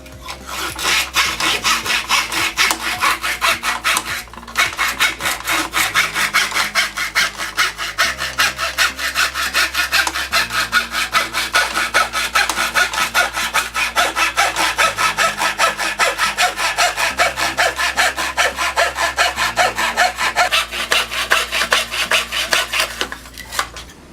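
A back saw cuts wood with steady, loud back-and-forth rasping strokes, pausing briefly a couple of times before resuming.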